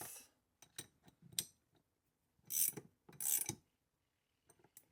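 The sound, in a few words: ratchet with 19mm socket tightening bolts on oil catch can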